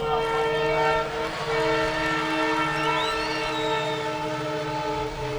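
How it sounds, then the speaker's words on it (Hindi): A train rolls past with its horn sounding in a long, loud, sustained chord for most of the stretch, the wheels and rail clatter rumbling steadily underneath. "उस समय भी ये ट्रेन आ गई थी"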